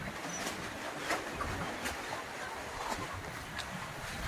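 Steady wind blowing outdoors at a chicken shed during unseasonal rain, a continuous rushing noise with occasional gusts and buffeting, no voices.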